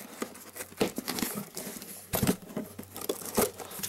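Cardboard box packaging being torn open while unboxing, a run of sharp ripping and crinkling bursts with short pauses between pulls, close up.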